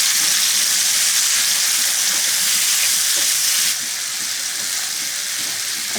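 Chopped tomatoes with a little turmeric are stirred in a frying pan, a loud, steady hiss of frying with occasional scrapes and a slight drop in intensity partway through.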